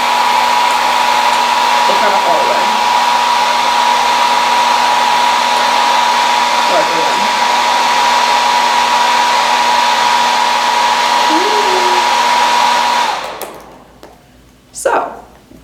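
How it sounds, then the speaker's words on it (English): A hair dryer set on high runs steadily with a loud, even whine and airy rush for most of the stretch, then cuts off; a voice speaks briefly near the end. "I'm going to turn this hairdryer on high."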